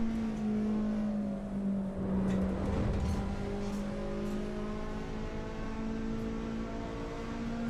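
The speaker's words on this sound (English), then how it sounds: "Car actually sounds really good." A race car's engine and exhaust in Assetto Corsa EVO, heard from inside the cockpit as a steady, loud harmonic drone that climbs in pitch as the revs rise, with no one talking.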